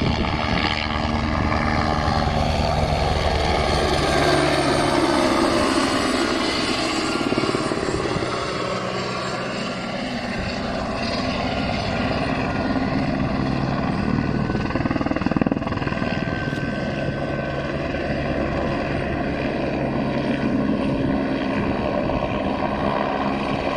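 A helicopter's engine whines steadily while the rotor thumps continuously, loud and close, with no talking.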